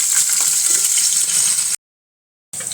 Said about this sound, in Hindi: देख सकते हैं मेरा तेल गर्म हो चुका है, जिसके अंदर इसके अंदर थोड़ा सा जीरा डाल दिया हूँ। अब ये हरी मिर्ची जो है इसको डाल देंगे।